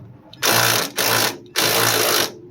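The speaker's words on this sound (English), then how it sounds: "It's not an impact wrench or impact gun, it's an impact driver." An impact driver used while deep cleaning a 1992 Honda Civic EG hatchback fires in three bursts of buzzing, hammering whir, each about half a second long and separated by short pauses, close and loud.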